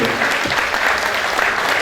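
Brief burst of dense audience clapping at a conference on Huapango Arribeño during a son music festival in San Ciro de Acosta, steady and close throughout.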